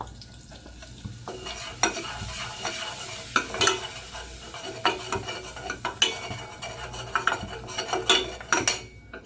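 Flour stirred a little at a time into melted butter in a pan for no-bake macaroni cheese: a steady close sizzle under repeated scraping strokes of a utensil against the pan, with occasional louder clinks and no talk.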